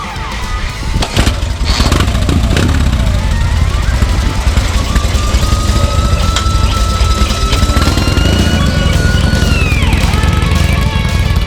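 An old kickstart motorcycle with chain drive, points ignition and a carburettor rides along, its engine droning loudly and steadily close by throughout, with wind buffeting and some talk mixed in.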